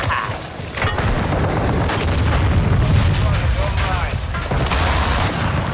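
Rapid automatic fire from a Tec 9 in Call of Duty Modern Warfare 2 (2022), sustained loud bursts with booming impacts running throughout, dense and continuous with no clear pauses.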